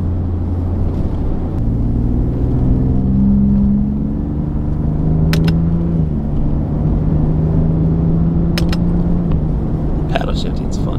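A 2019 Ford F-150 Raptor with a V6 turbo engine and paddle shifters accelerates, heard from inside the cabin as a loud, steady drone whose pitch climbs and steps between gears, with a few light clicks.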